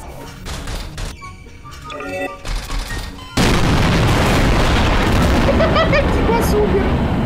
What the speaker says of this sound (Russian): Сейчас взорву.